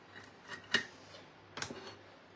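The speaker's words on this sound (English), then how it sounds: "I'm just going to grab my scissors." Scissors snip through a wrap for a BLT with cheese made in a Tupperware Micro Pro Grill, two quick, soft cuts spaced about a second apart in a quiet room.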